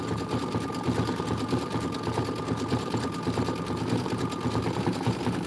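An embroidery sewing machine stitches out a Kimberbell quilt tile with a steady, even, rapid mechanical chatter and a faint hum, running alone without talk at moderate level.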